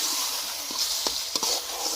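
Mustard greens give a soft steady sizzle in a pan, with a few light scraping stirs and clinks partway through.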